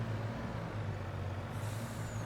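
A truck in Farming Simulator 22 parked at the edge of a field lets out a steady air-brake hiss over a low idling engine rumble, with no voices.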